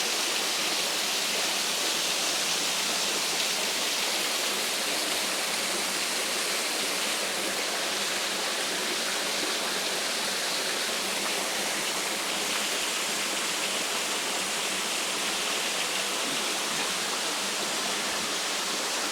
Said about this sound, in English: waterfall here, trickling away